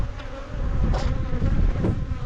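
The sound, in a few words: honey bees buzzing at hive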